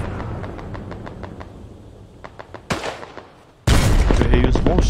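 Rapid gunfire in the Hell Let Loose video game during a city battle, with repeated close shots in quick bursts, a sharp blast, then a loud sustained burst of fire near the end.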